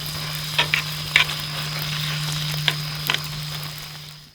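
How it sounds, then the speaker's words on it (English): Leftover sausages frying in a pan, a steady close sizzle with a few sharp clicks and scrapes as they are stirred or turned, and a constant low hum underneath. "once it's boiling and sizzling, and we're good"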